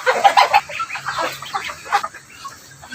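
Chinese chickens cluck and call on a small farm, with several short, fairly close calls bunched early and scattered softer clucks after, over faint outdoor background.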